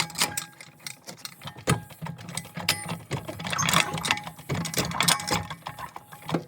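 A mechanical jack is worked under a 2021 Toyota Camry SE, giving repeated clicking and ratcheting strokes with irregular rhythm, close and fairly loud, without talking.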